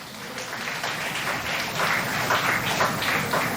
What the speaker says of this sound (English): let's give Mr. Santosh, sir, a round of applause for the excellent session he had taken